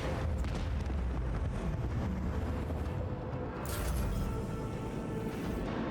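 Lance battery volley firing in the space combat of the video game Rogue Trader: a sustained, loud, rumbling roar of heavy blasts, with a brief dip partway through and then a bright crackling surge.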